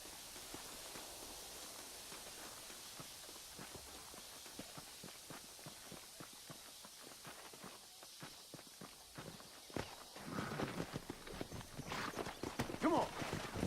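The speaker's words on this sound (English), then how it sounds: "There should be some horses for us across the way." Horses in the video game Red Dead Redemption, their hooves clip-clopping in a steady rhythm that quickens toward the end, nearby, with faint background noise.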